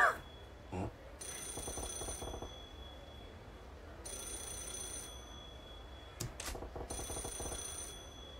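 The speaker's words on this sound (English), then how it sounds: "Looks like it's the payphone." A payphone rings in the Yakuza 0 video game, a bright electronic ring that repeats in several bursts over a quiet background, with no talking.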